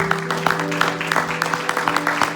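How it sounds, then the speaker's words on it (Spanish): Congregation clapping in a church service, a loud run of hand claps with a sustained musical tone droning underneath throughout. "Denle ese fuerte aplauso al Señor"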